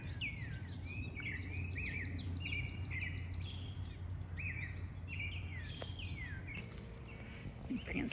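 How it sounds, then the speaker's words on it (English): Several birds sing and chirp nearby in repeated bright phrases, one trilling rapidly, over a low steady hum; no speech. "Just listen to all those birds."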